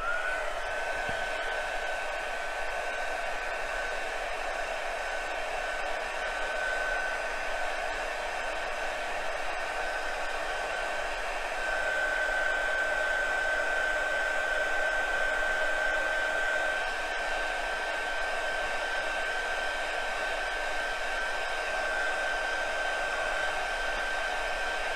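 A hair dryer blows steadily for a long stretch while drying a watercolor painting, an even loud whooshing hiss with a faint high whine that shifts slightly partway through.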